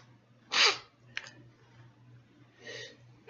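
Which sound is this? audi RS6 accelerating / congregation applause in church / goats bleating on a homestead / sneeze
sneeze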